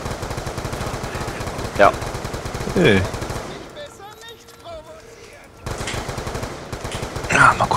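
Rapid automatic gunfire in Black Ops 2 Zombies, loud bursts with a brief quiet gap in the middle, while players talk over the shooting.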